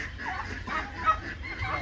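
Free-roaming black hens clucking and murmuring close by on a farm in Hoshiarpur, Punjab, a steady run of soft, overlapping clucks with one brief sharper call partway through.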